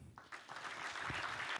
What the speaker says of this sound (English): have another round of applause for them